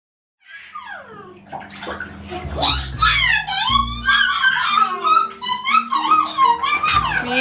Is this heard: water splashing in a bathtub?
yes